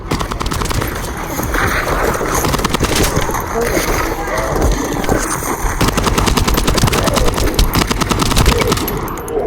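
Sustained rapid gunfire crackles nearly nonstop in the video game The First Descendant, bursts of machine-gun fire layered over one another with a dense, loud, close battle texture.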